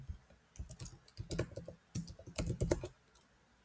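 A computer keyboard is typed on in quick irregular bursts of crisp, close keystrokes separated by short pauses, fairly quiet and with no talking over it.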